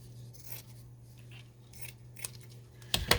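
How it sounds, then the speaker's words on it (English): Scissors make a few quick close snips while trimming Christmas fabric for a fabric envelope, with a louder final cut at the end over a faint steady hum. "I'm going to go ahead and trim this off over here"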